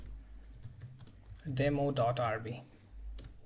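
Computer keyboard typing while entering a Ruby command for a CouchDB and CouchRest demo, soft scattered key clicks at close range, with someone speaking briefly over the middle of the clip.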